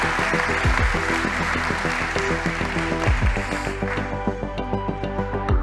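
An audience applauds dense and sustained at the 3DEXPERIENCE 2024 conference, welcoming a Valeo digital transformation director onto the stage. Music plays underneath, and the clapping rises toward the end.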